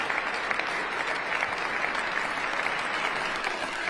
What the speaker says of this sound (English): By the way, can you hear the applause?